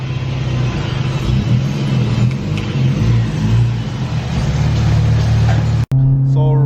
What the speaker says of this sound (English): So riding along in this Civic Si